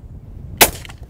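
A single sharp shotgun report rings out on an open sporting clays ground. Its crack is loud and close, with a short tail that fades quickly.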